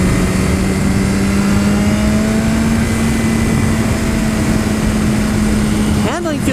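A 2015 BMW S1000RR sport motorcycle pulls hard on the road, its engine holding a loud, steady high-pitched drone that climbs slowly in pitch, with a brief gear-change blip near the end.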